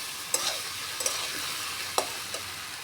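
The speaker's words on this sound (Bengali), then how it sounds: "আলুটা ভেজে নিয়ে তারপরে বেগুনটাও একটু ভেজে নিয়েছি, তারপরে মশলা দিয়ে যে কষিয়ে নিচ্ছে" Potato and eggplant frying with cumin and spices in a pan, a soft steady sizzle with a few sharp stirring clicks and scrapes, close and alone.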